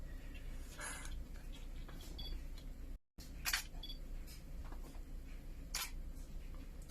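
A few sharp mechanical shutter clicks from a Pentax K-3 Mark III DSLR with battery grip, spaced apart over a soft background hiss, close to the listener.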